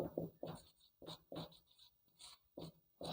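Writing on a board in a class setting: a series of faint, close scratchy strokes in short bursts with brief pauses between them, with no talking.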